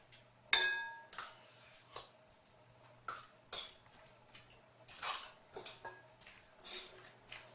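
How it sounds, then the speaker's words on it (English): Spoon clinking against a bowl while mixing thick 2% Greek yogurt, a series of sharp, separate metallic taps and scrapes spaced irregularly, close and fairly clear over a quiet background. "So I'm going to mix that in here, like so."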